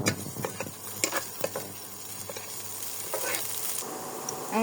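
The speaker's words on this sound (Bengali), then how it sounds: "আমরা হালকা করে একটু ভেজে নেব।" Dried chili, ginger and garlic lightly frying for a sweet raw mango pickle, a steady close sizzle with scattered stirring scrapes and clicks throughout.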